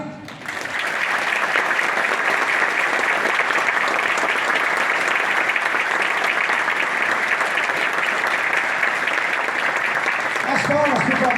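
An audience at an innovation week event applauds as a speaker is invited onto the stage, a loud, dense, sustained ovation that fills the room and holds steady to the end.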